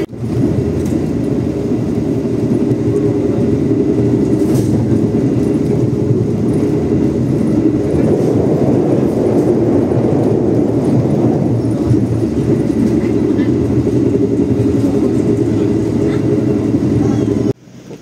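Heard from on board, the Tegal Bahari passenger train runs on rails toward Babakan station in Java, a loud, unbroken low rumble and roar that holds steady for the whole stretch before cutting off abruptly.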